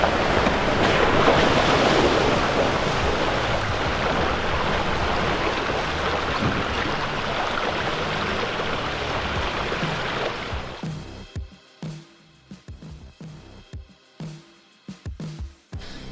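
Car fording a cold, clear stream crossing on the 42 Traverse track in New Zealand, loud continuous rushing and splashing water for about ten seconds, then settling into sparse, irregular sloshes and drips.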